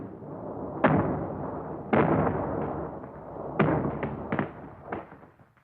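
Battlefield gunfire at San Pietro in wartime, frontal and flanking fire: several sharp, loud reports and thuds at irregular intervals, each followed by a rumbling decay, with no voices.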